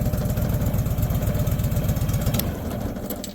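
Small engine on a new conveyor idling with the choke partly pulled, a steady throbbing mid-low rumble that eases slightly near the end, with a few faint clicks and no talk.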